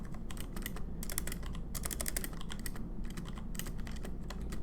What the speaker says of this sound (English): I'm sure you probably heard the ticks on the keyboard